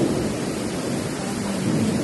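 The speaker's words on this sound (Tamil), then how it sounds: "மழை பார்க்க எவ்வளோ அழகாக இருக்கு" Steady heavy rain hisses continuously with a low thunder rumble beneath it, a dense, even wash of noise with no voices.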